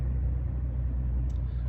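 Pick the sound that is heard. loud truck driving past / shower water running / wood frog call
loud truck driving past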